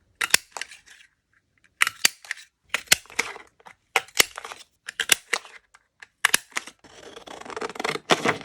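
Scissors snip through purple and gold paper in crisp, close bursts of sharp cuts, pausing between groups of snips, with a longer rustling cut near the end.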